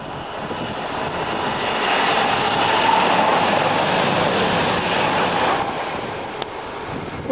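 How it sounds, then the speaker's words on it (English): Freight and express passenger trains passing over a viaduct in the English countryside near Felmersham and Radwell, a distant broad roar that swells to a peak midway and fades, heard alone with a faint wind-like hiss. "you had a nice freight and a nice express passenger."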